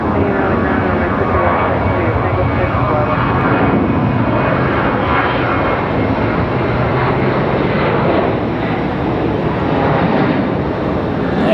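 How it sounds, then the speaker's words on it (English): Aer Lingus Airbus A321XLR airliner being pushed back by a tug at Raleigh-Durham International Airport, a steady loud broadband engine and ground-equipment roar that fills the whole stretch without pause. "the XLR pushing it back for Aer Lingus"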